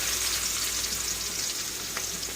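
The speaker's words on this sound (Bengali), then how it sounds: "তো আমার পেঁয়াজটা কাঁচামরিচটা ভাজা ভাজা হয়ে গেছে" Onions and green chillies fry in a pan with a steady, close sizzle and faint stirring, with no talking.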